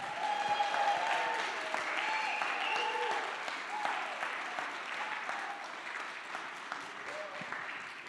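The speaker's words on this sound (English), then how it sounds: "I think that we should give them yet another round of applause" An audience applauding panelists at a community book-debate event, steady sustained clapping from a full room, loud and even throughout and fading slightly toward the end.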